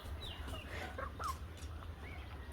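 Native chickens on a small poultry farm cluck softly in a few short, scattered calls over a low, steady background hum.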